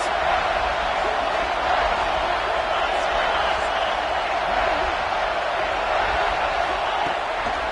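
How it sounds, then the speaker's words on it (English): A college football stadium crowd roars steadily behind the defense on a big third down in the red zone, a dense continuous wall of cheering with a commentator talking over it. "this crowd is getting behind this defense."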